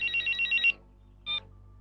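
A telephone rings in a Punjabi film scene after a call is placed, with five quick electronic trills in a row, then a pause and one short final burst, fairly close and clear over a faint background hum.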